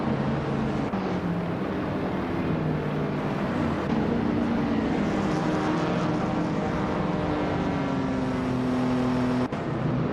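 Racing cars in a video game, including a 1983 Toyota E86, drone with continuous engine noise, several motors humming and shifting pitch together at a steady pace with no voices.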